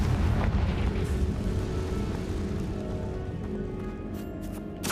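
A Confringo spell explodes in a video game, a deep, rumbling blast that fills the whole stretch and slowly decays with a rolling low-end boom. No voices are heard over it.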